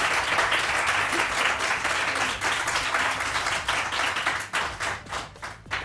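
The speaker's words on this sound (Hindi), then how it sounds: "अख्तर भाई के लिए बहुत सारी तालियां" A studio audience on a morning television show applauds, a dense steady clapping that thins out toward the end.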